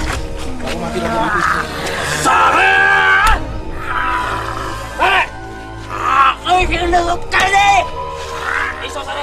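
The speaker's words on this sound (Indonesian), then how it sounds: "Berapa kali berteriak keras." A person possessed during a mystical ritual in a Malang village yells loudly, with repeated harsh, strained, roaring cries and groans that are close and dominant, broken by short pauses.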